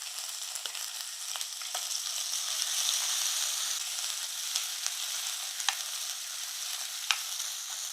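Fennel seeds, crushed ginger, garlic and green chilli fry in hot oil, giving a continuous bright sizzle with scattered sharp crackles and pops, close and steady, with no voices.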